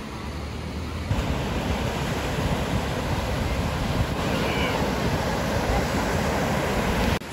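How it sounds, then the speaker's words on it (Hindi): Sea waves surging at Paradeep beach in Odisha, a steady broadband wash of surf with wind noise across the microphone, continuous and fairly loud with no talk. "वेव जो है वो काफ़ी ऊंचा ऊंचा उठ रहा है"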